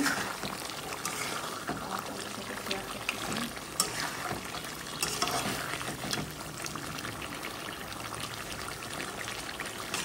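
Chicken curry made from a red country rooster simmers and sizzles in a pan, a steady bubbling and frying hiss with occasional scraping stirs throughout.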